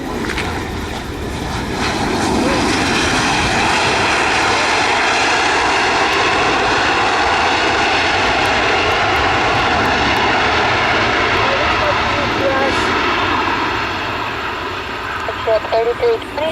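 Airplane engines roar steadily at Buffalo airport at night, a loud, continuous drone lasting throughout while people talk nearby.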